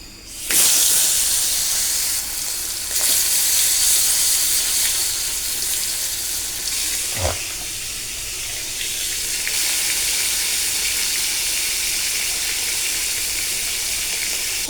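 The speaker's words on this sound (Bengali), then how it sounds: "এখন মাছগুলো আমি ভেজে নেব।" Fish fries in hot oil in a pan with a loud, continuous hissing sizzle that swells when the pieces go in, plus a brief clunk midway.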